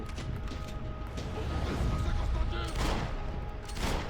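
Gunfire from the video game Max Payne 3, a dense fusillade of overlapping shots and crashes that runs steadily through the clip at close range.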